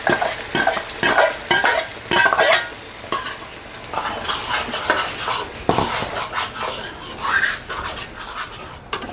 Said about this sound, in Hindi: अब ये मसाला भुन रहा है,